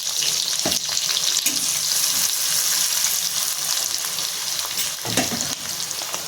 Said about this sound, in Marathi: इथे एका कढईमध्ये आपण तेल टाकून घेऊयात ह्याच्यामध्ये आपण मिरची टाकून घेऊयात आणि बारीक चिरून घेतलेला लसूण टाकूयात